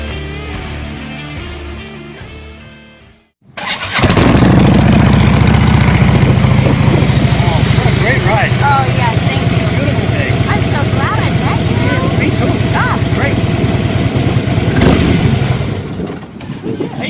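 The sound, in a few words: motorcycle engine starting and revving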